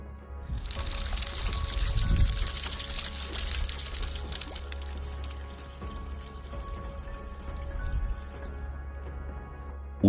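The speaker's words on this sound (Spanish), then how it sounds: "pasando rápidamente el dedo por el borde se puede influir en el flujo del agua" Water runs steadily through a carved andesite stone channel among ancient rock walls at Ollantaytambo, Peru, a continuous rushing trickle heard close and alone for the whole stretch.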